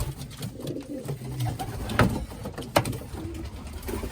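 A young pigeon cooing inside a breeding loft, soft low repeated coos close by, with two sharper knocks or clatters partway through.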